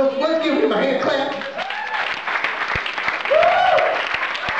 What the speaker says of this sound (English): And to our glorious Pastor Wilson, let's give him a hand clap.